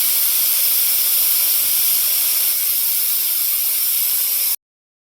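A pressure cooker cooking tempered rice hisses steadily with loud, continuous steam for several seconds, then cuts off abruptly into silence.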